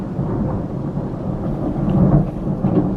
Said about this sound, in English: Oh, it is starting to rain.